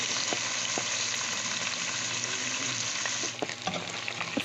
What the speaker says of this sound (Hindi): ऑयल जब हमारा गर्म हो जाएगा तो हम इसमें अपने चिकन को फ्राई कर लेंगे